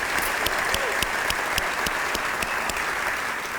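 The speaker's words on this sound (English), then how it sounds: "Can you help me in giving those ladies another round of applause?" An audience at a State of the County address in Cobb County gives a round of applause for a group of women, a steady, full crackle of many hands clapping that holds evenly throughout.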